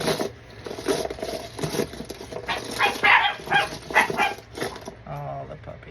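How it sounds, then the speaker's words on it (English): Puppies bark and yip in quick, uneven bursts, fairly close and lively, while people talk over them. "Oh, the puppies."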